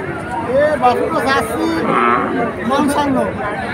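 A calf or cow moos loudly and close by at a cattle market, with drawn-out bellowing calls heard over the chatter of people bargaining nearby.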